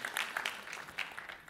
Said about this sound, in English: you deserve a big round of applause for sure